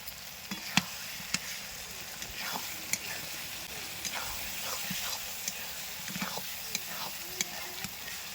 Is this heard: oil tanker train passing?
no